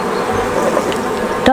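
Honeybees fill the inside of an open hive, where the honeycomb is still low on honey, with a dense, continuous close buzz that swells slightly over the moment.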